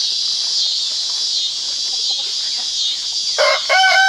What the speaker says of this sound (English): There's only the 5 hens in there,